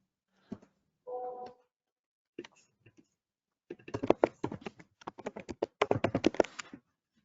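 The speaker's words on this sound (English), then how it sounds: "Are you typing something?" Keys on a computer keyboard clatter in a quick uneven burst after a few scattered taps, close and fairly crisp, following a brief stretch of near silence.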